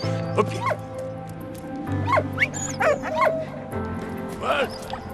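A dog in the World War I video game Valiant Hearts gives several close yips and short barks, with some whimpering, over soft game music while a person talks.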